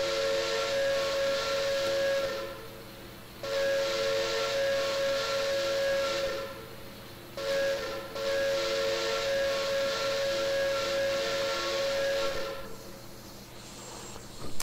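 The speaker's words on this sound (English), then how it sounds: "Whistle." Steam whistle of a PRR E6 4-4-2 Atlantic locomotive in Train Simulator Classic, sounded in four long, loud blasts with short hissing gaps between them, close and alone with no talk.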